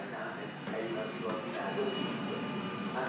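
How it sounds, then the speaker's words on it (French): A passenger train starts to move, a low rolling rumble that swells slightly as it gets under way, with muffled voices in the carriage. "Le train démarre."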